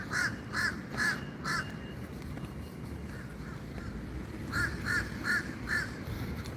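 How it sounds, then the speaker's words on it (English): Crows caw outdoors in Florida: a quick run of four loud harsh caws, a few fainter distant calls, then another four-caw burst, over a low background hum. "Listen to that bird. It's a crow."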